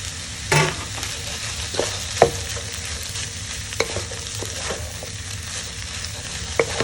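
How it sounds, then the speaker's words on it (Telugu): Rice tossed and stir-fried with vegetables and tofu in a pan on high flame: a continuous loud sizzle broken by repeated spatula scrapes and clanks against the pan, with no voices. "ఒక 1 minute అలా వెజిటబుల్స్ ఫ్రై చేసుకున్నాక రైస్ యాడ్ చేస్తాం."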